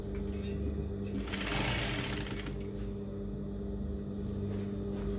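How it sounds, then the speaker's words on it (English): A sewing machine stitches a table cloth with a steady mechanical hum and rapid needle chatter, briefly louder in a burst near the start before settling back to an even whir. "Then you start sewing"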